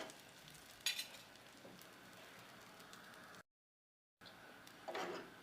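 Hot oil crackles steadily while Kabyle beignets fry, a quiet continuous sizzle with a few brighter pops, broken by a short gap of silence before the crackling resumes.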